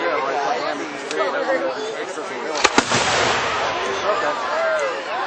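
Fireworks at a July 4th show in Grand Mound, Iowa, crackling continuously with a pair of sharp close bangs near the middle, while a crowd chatters and people talk throughout.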